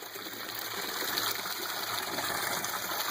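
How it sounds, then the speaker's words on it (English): An aquaponic grow-bed siphon drains water straight down a 2.5 inch pipe, giving a steady, close, rushing gush that continues without a break and with no voices. "it siphons and drains straight down"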